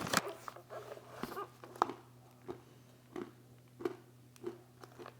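Roasted mixed nuts (almonds, cashews, hazelnuts, pistachios seasoned with olive oil, garlic powder, pink salt and rosemary) are chewed close to the mic, with sharp crunches at a steady rhythm over a faint hum.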